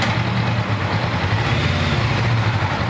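Honda 400X motorcycle engine pulling away from a stop, a steady loud low rumble close by with no talking.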